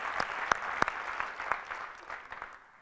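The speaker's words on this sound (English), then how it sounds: "Let's give a round of applause for them." A conference keynote audience claps for the gold sponsors, a moderately faint burst of many hands with a few sharper, closer claps standing out before it fades away.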